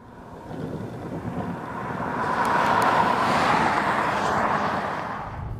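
A Toyota Camry XSE drives along a road, its engine and tire noise building into a steady, moderately loud cabin rumble mixed with wind and road roar, with no voices.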